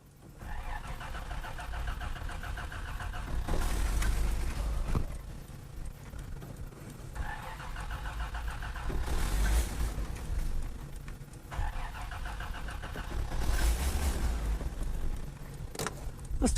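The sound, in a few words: Toyota Land Cruiser engine cranking, trying to start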